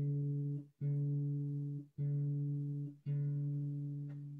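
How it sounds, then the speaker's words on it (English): Plant music played on a synthesizer harp setting: four sustained, plucked-sounding tones in sequence, each ringing for about a second with a clean harmonic timbre and slowly fading, heard alone. "This is the sound of the harp."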